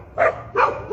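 Dogs giving a few loud, close barks at night in Mexico, three harsh bursts spaced about a third of a second apart with no talk over them.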